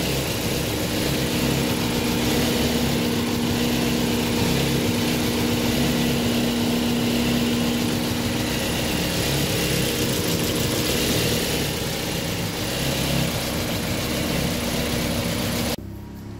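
A Mazda 3 engine idles roughly with hesitation and a misfire, a steady close engine drone with a faint uneven pulse that runs alone for about sixteen seconds before cutting off sharply.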